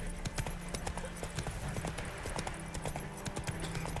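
Horse hooves trot steadily in The Witcher 3, a rapid even clip-clop with game ambience and music underneath, loud and close throughout.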